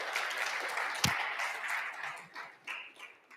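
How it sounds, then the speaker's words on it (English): An audience at a stakeholder roadshow event in Johannesburg applauds, a dense wash of clapping heard at moderate distance that fades out toward the end. "Please give that stakeholder a round of applause"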